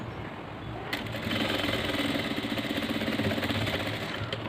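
Sewing machine stitching along the edges of a chudidhar, a steady close mechanical whir with rapid needle chatter running continuously, louder after the first second, with no talking.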